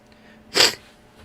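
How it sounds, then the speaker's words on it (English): A single sharp sneeze bursts out close by during an indoor hobby session, brief and fairly loud against a quiet room with faint background hum. "Oh, coughing and sneezing now."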